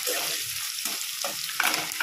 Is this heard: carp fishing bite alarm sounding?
no